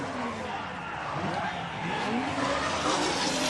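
Drift car tires squeal steadily through a solo run at Suzuka Twin during a Formula Drift Japan event, with a loud, continuous roar of engine and rubber close by.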